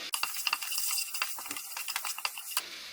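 Spoon stirring spices into Amritsari Pindi chole, a quick run of sharp metallic clinks and scrapes against the pot over about three seconds, close and clear with no talk.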